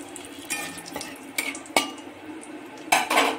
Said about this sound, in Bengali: এরপরে আমি গোটা গরম মশলাগুলো দিয়ে দেবো